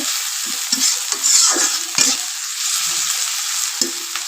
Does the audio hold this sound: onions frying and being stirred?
yes